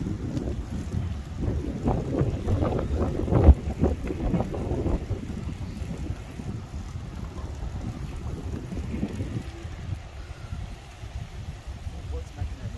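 Strong wind gusts of around thirty miles an hour buffet the microphone while riding an e-bike or scooter, a loud rumbling roar that surges heavily early on and then settles into steadier blustering, with no clear talk.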